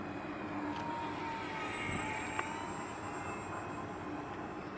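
An E-flite T-28B Trojan RC plane flies overhead outdoors, its motor a steady, faint whining drone under light wind noise with a gentle rise and fall in pitch.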